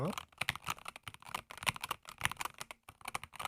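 Keystrokes clatter on a white SteelSeries Apex Pro TKL Gen3 magnetic-switch mechanical gaming keyboard, a quick uneven run of soft, muted thocks at close range with brief pauses between bursts.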